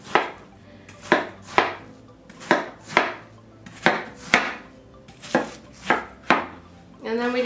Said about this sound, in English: Exactly how you cut a watermelon